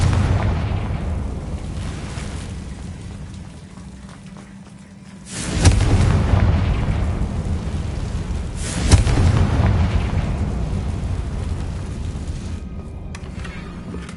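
Two booming blasts from the Confringo blasting spell in Hogwarts Legacy, each a loud burst that decays into a rumbling roar over a steady low drone, with no talk.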